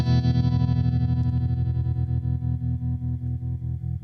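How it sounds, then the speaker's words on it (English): Guitar through a Universal Audio UAFX amp simulator pedal with vibrato or tremolo engaged, a decaying held chord pulsing in a fast, regular wobble that fades gradually. "this pedal that you get with the actual amplifier is vibrato or tremolo"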